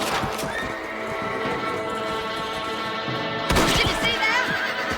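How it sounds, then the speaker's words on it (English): Horse whinnies loudly in the Western video game Red Dead Redemption, with a second sharp neigh near the end, over a busy backdrop of hoofbeats and game noise. "Esse cavalo do Jill é muito revoltado."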